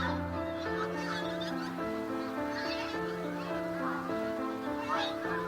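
A large flock of geese from Greenland calls from barley fields at the Montrose Basin in autumn, a steady overlapping din of honks at a middle distance with no pauses.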